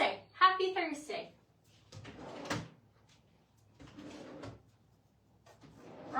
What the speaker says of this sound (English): Wrong drawer.